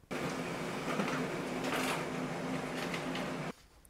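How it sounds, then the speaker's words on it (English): A Brother MFC-L2820DW laser printer prints a page with a steady mechanical whir and rolling hum, punctuated by faint clicks and paper-feed rustles, running for several seconds before stopping abruptly. "The print has been now sent to the Brother printer, and just in a few seconds, the result will come out"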